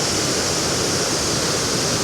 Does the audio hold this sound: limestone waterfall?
yes